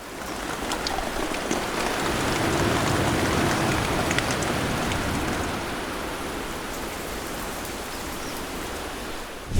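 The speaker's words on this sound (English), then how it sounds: "waiting until this steady rain finally comes to an end" Steady rain pours down on a tarp covering a wooden gazebo's concrete foundation, a dense, constant hiss of drops close by that holds level throughout, with no voices.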